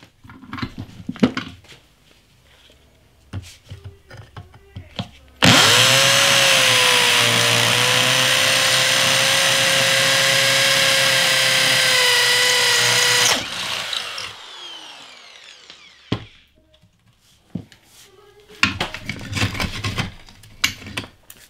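A Doliz BA670 impact drill runs loud and steady for about eight seconds, boring into test material, then winds down; scattered handling clatter comes before and after.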